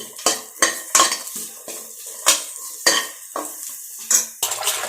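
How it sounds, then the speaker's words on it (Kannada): A metal spoon scrapes and clinks against a pan while food fries on a home stove, with repeated sharp stirring strikes at an uneven rhythm and a faint sizzle between them. "ಎಲ್ಲ ಫ್ರೈ ಮಾಡ್ಕೊತಾ ಇದ್ದೀನಿ"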